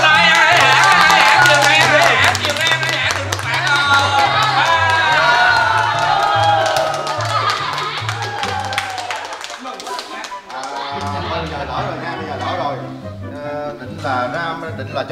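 A group of people celebrating a YouTube silver play button claps and cheers throughout, loud and close, over a pulsing music beat that briefly drops out before returning.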